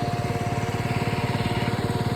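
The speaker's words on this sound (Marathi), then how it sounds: "ट्रॅक्टर भिजत आहे इकडे बघ ना" A tractor's diesel engine chugs in a fast, steady rhythmic pulse, running close and loud without pause, out in a farm field.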